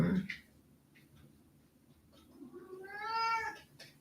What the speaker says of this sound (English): My cat's gonna get noisy.